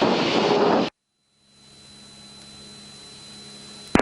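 Small training airplane engine in flight near Bowman Field, a steady droning roar that cuts out abruptly into near silence, then returns as a quieter constant hum with a thin whine.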